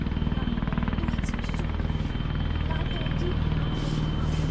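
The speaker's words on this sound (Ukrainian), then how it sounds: "Оно, вертольот летить." A helicopter flies over a house, its rotor making a loud, steady rhythmic chopping throb that continues throughout while people talk nearby.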